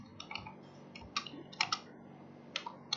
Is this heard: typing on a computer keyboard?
yes